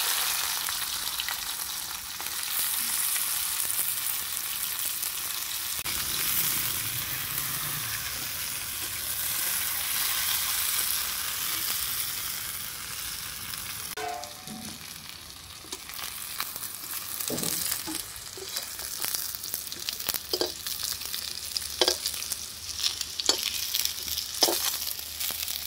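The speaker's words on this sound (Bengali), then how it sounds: "আলুটাকে ভেজে নেব" Potatoes frying in hot oil in a wok, a continuous loud sizzle and crackle close up, later broken by clinks and scrapes of stirring.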